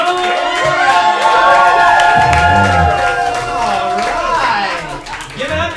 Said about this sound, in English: Guys, we need to get the round of applause going.